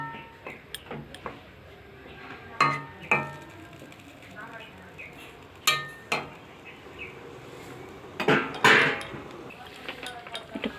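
A lid set on a cooking pot of potato and green banana curry, with a few sharp metallic clinks and rattles scattered among quieter kitchen sounds, while someone talks.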